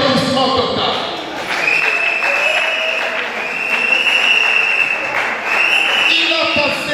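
An audience at a thesis defense claps in a sustained wash of applause that swells and dips, with a voice and some ringing tones carrying over it.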